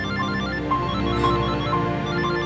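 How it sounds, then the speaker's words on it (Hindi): A telephone rings in a tense household drama scene, a steady electronic ringtone with repeating tonal pulses over a low hum, continuous and fairly loud throughout. "भाई साहब का फोन"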